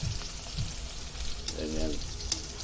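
Ginger and onion sautéing in a pan, a soft continuous sizzle with faint stirring scrapes, fairly quiet throughout.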